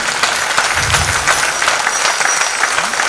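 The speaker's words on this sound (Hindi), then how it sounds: "जोरदार तालियां सारे आर्टिस्ट के लिए" Applause from a full-house audience at a live Lucknow stage show of ghazals, Kathak and narration, a dense, steady wash of clapping held at a loud level throughout without any speech.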